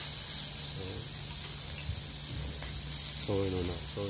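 Food sizzles in a Tiger electric hotpot as a steady, loud hiss that runs throughout, with faint tonal beeps or hums appearing briefly near the end.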